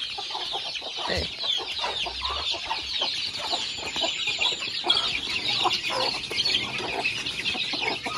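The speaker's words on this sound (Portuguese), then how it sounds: "Esse pintinho doido pra passar" Chicks and hens on a small Brazilian farm, a dense chorus of high peeping and soft clucking close by, with a brief faint human murmur.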